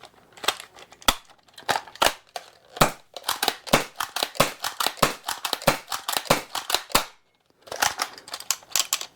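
An Adventure Force Deuce Pro dart blaster fires in rapid bursts, a long run of sharp, close snapping shots with brief pauses, some coming in quick clusters and a short gap before the final volley.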